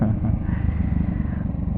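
A 2018 Bajaj Dominar 400 motorcycle engine pulls hard at mid revs, a steady, gruff low-pitched drone heard close up from the rider's seat, with faint wind rush.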